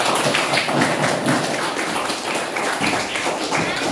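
Primary school pupils in a classroom clapping for a group after a lesson, a dense, continuous patter of many hands at close range, fairly loud throughout, with some voices mixed in.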